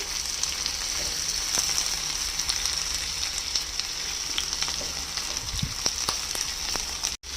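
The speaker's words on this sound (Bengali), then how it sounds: "দুটো পেঁয়াজ স্লাইস করে নিয়েছি এটা একেবারে হালকা করে ভাজবো" Two sliced onions fry gently in hot oil, giving a dense, even hiss of sizzling close by that continues steadily throughout, with a few faint clicks near the end.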